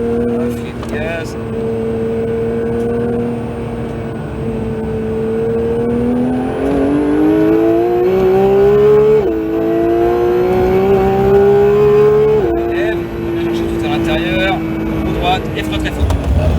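Porsche 911 GT3 (992) on the Castellet race track, its engine droning loud and close as it accelerates, the pitch climbing steadily through the revs with a couple of sharp gear-change steps, an instructor's voice occasionally over it.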